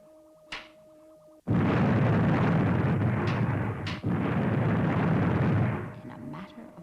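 A volcano erupts in a science-fiction puppet series, bursting in after a quieter stretch of music as a sustained, loud, roaring rumble that holds for several seconds before easing off.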